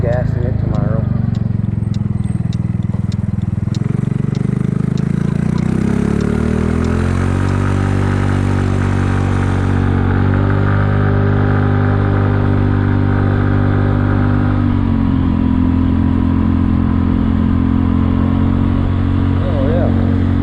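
A Kymco People 250 scooter engine, its exhaust leaks plugged with JB Weld high-heat epoxy, runs steadily up close, revving up and settling into a loud, even drone for about twenty seconds.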